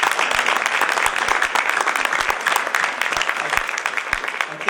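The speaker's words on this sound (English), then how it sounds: "I think she deserves a round of applause." Audience applause for a graphic artist at a plenary discussion session, a steady dense wash of many hands clapping throughout, close and fairly loud with no voices standing out.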